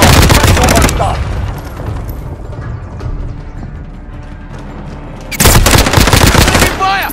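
Loud bursts of automatic gunfire in a multiplayer shooter video game, a dense rapid volley at the start and another near the end, separated by quieter background game ambience.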